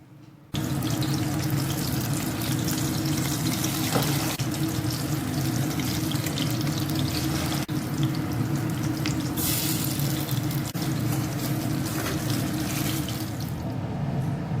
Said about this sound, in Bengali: তো এখন বেশ খানিকটা তেল আমি গরম করে নিয়ে কয়েকটা কয়েকটা করে আমি বড়াগুলো তৈরি করে নিব।